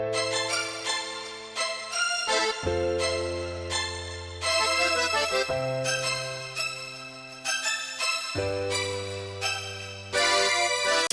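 A Nexus string synth carries a busy melody inside an Amapiano-style beat, sustained string chords shifting every few seconds under bright layered notes, steady and moderately loud with no voice.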